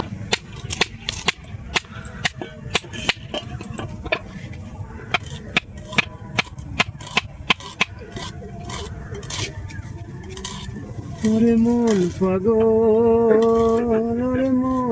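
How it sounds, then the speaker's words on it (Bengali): A knife chopping onions on a board for Bengali onion posto, rapid sharp taps in a steady rhythm up close, then giving way to a sung melody over the last few seconds. "চলুন তাহলে আমি পেঁয়াজগুলো সব কুচিয়ে নিই।"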